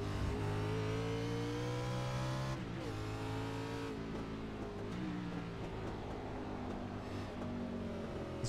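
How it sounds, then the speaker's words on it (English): A race car engine holds a steady, loud drone on throttle in a racing sim on a roval circuit, its pitch dipping and climbing through gear changes and lifts, with no one speaking. "you can hear him on the throttle"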